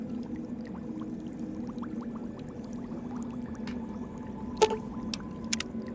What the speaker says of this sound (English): We're going to take that looping sound, that bubbling sound.